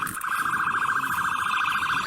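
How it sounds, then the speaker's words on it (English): Police car siren at a Houston police shooting scene, a steady fast warbling wail, loud and close, sounding on its own without voices. "Go ahead and turn off your siren as soon as possible because it's just adding to the chaos of the situation."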